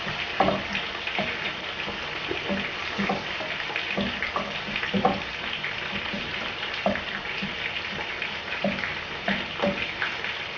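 A merguez omelette mixture with spices fries in a pan, giving a steady bubbling sizzle with small pops, fairly close and unbroken throughout.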